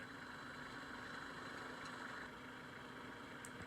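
A Kubota M9000 farm tractor engine idles in a low, steady rumble on a farm before cutting hay, faint and distant with no change in pace and no talk.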